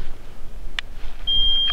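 An avalanche transceiver switched to send mode gives a short electronic beep, with a second fainter beep a moment later, over low background rumble during a snowshoe hike.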